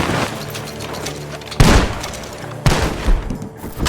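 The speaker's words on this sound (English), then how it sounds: "Guns are coming from that barn." Gunfire pouring out of a barn in Red Dead Redemption 2, loud close bursts of shots with heavy booming reports, two big volleys landing after a stretch of rapid firing.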